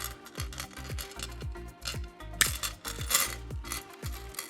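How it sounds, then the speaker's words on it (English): Jewelry chain snipped with a thick heavy-duty cutter, a series of close, sharp metallic clicks and clinks repeating in quick rhythm, small chain links rattling between cuts. "you're going to want to cut your chain with this thick heavy duty cutter at your preferred length"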